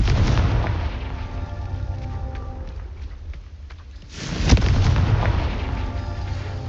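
A Confringo blasting spell explodes in Hogwarts Legacy: loud booming blast with a rumbling tail that fades away, then a second sharp explosive burst strikes and rolls on, with no voices over it.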